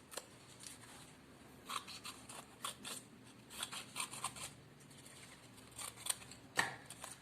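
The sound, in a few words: scissors cutting two big triangles for cat craft ears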